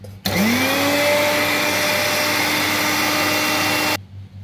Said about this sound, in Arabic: هنطحنها كويس اوي في الخلاط.